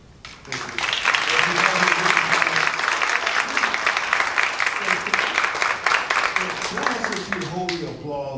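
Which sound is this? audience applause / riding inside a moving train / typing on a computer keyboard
audience applause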